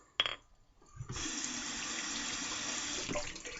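Water runs from a tap into a sink while shaving lather is made, a sharp start followed by a steady, close, rushing stream that stays even for several seconds with no talk.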